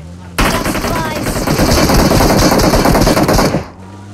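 Sustained automatic gunfire in a shooter video game, a loud continuous barrage of rapid shots lasting about three seconds before cutting off abruptly.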